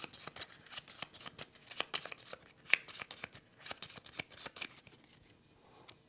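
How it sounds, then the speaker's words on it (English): Cards from the SETI board game being shuffled by hand, a close run of quick, crisp riffles and snaps that keeps up in an uneven rhythm with no talking. "they shuffle these cards"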